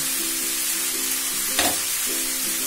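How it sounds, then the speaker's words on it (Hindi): Capsicum, tomato, paneer and mixed vegetables stir-fry on a high flame, giving a steady close sizzle, with a brief sharp clatter of tossing partway through. "ऐसे ही पकाना है हाई फ्लेम पर ही जैसा कि मैंने कहा और ये इसे स्टर करते रहना है"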